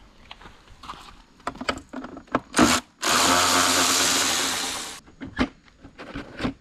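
Seat bolts being removed from a Kawasaki KX85/KX100/KX112 dirt bike with an 8mm tool, a cluster of short metallic clicks and knocks, then a two-second steady whirring run of a powered driver, followed by more taps and clatter.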